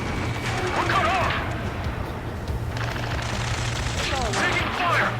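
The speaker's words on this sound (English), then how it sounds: "Taking fire! We're pinned down! Shoot back!" Gunfire during an Ace Combat 7 mission, a sustained rattle of automatic shots and crashing impacts with a steady engine drone underneath, loud and continuous, mixed with radio-style combat chatter.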